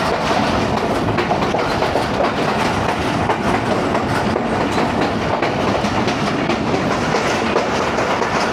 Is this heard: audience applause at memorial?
no